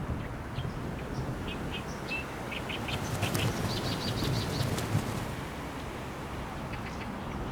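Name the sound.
birds flapping wings on nesting island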